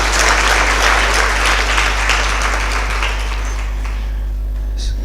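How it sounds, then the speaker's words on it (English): Audience members at a communication studies institute event give a guest a round of applause. The steady, dense clapping lasts throughout and thins slightly at the end, over a low electrical hum. "let's give him a big round of applause."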